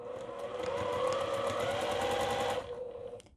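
Close sewing machine running in one steady burst as it stitches a fabric liner with a 2 mm stitch length, a fast buzzing whir that stops abruptly near the end.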